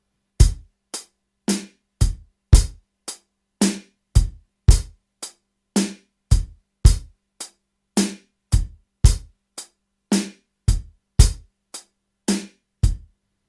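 A drum kit groove played alone with bass drum hits landing on the first and fourth hi-hat beats, crisp hi-hat ticks in a steady repeating pattern with the deeper kick thumps, loud and close for about thirteen seconds.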